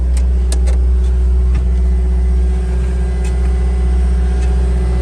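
A 2019 CAT 259D enclosed-cab skid steer runs steadily nearby, its diesel engine giving a constant low rumble with a faint whine above and no change in revs.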